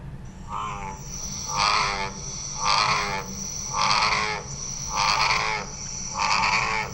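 Deep male bullfrog mating calls repeat in a steady rhythm, five or six resonant croaks spaced about a second apart, with a stutter at the end, over a constant hum of insects.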